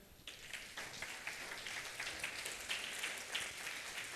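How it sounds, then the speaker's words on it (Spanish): Congregation applause in a Sunday church service, a soft, distant wash of many hands clapping, steady and low in level throughout. "Un fuerte aplauso al Señor."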